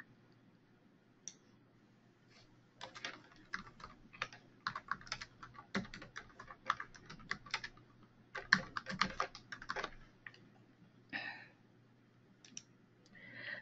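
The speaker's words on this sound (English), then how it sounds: "you can do that by typing it in." Close keyboard typing in irregular bursts of rapid clicking keystrokes, separated by short pauses, with no talking.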